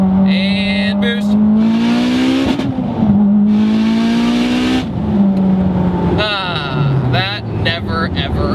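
A Mitsubishi Evo X accelerates hard in second gear under boost, its loud engine note climbing steadily from inside the cabin before easing off, with a voice speaking over parts of the run.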